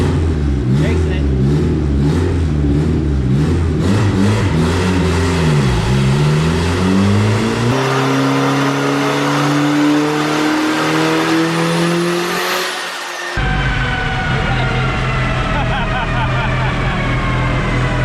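AWD turbo Honda Civic wagon revving hard, engine note climbing and falling through the rev range, then abruptly cutting out as it hits boost cut before resuming; loud and close, with people talking over it.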